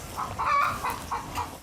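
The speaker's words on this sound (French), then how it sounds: "Dans cet enclos logent des coqs de race et d'autres espèces de volailles et de caprins." Purebred roosters and other poultry in a farm enclosure cluck in a series of short, fairly loud calls over about two seconds, with steady outdoor farmyard noise beneath them.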